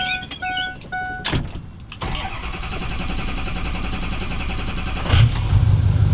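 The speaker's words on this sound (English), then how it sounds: "First time the trailer's moved in like 5 months" A drift truck pulling a trailer starts up after a few beeps and settles into a steady, close engine drone, swelling louder near the end as it gets under way.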